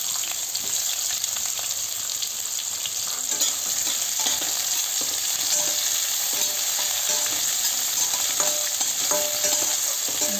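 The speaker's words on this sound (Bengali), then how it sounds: "তেল আর ইয়েটা একটু গরম হয়ে গেলে এই জিরি করে কেটে রাখা পেঁয়াজগুলো দিয়ে দিলাম।" Sliced onions frying in hot oil, a steady, dense sizzle that holds without a break, with light stirring clatter throughout.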